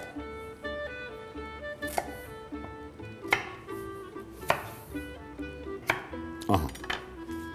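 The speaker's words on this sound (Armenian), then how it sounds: "Իսկ մինչ այդ կարող ենք կտրատել նաև բանջարեղենը։" A knife chops carrots on a cutting board in a home kitchen, giving about five sharp, separate thuds a second or so apart over a steady tonal background.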